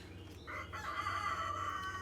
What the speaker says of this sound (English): Dude, that rooster is gonna drive me crazy.